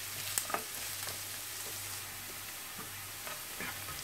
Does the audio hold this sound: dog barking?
no